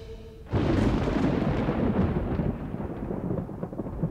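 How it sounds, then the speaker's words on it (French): A sudden loud rumble of thunder during a heavy rainstorm bursts in and rolls on for several seconds, slowly fading with a dense, crackling texture. "Il pleut des cordes aujourd'hui. C'est peut-être une tempête."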